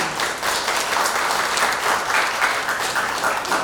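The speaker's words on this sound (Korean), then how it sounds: "모두 큰 박수와 함께 시작하도록 하겠습니다" A crowd at an 80th Liberation Day commemoration ceremony applauds steadily and loudly, a dense, even wash of many hands clapping at once with no voices standing out.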